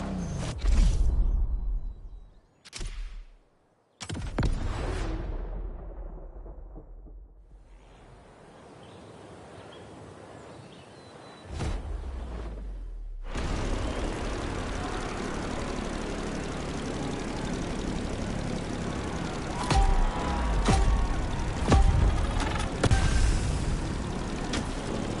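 An aircraft engine in The Crew Motorfest winds up for takeoff, a loud, steady propeller drone with low rumble that swells and holds, after a few choppy starts and quieter gaps early on.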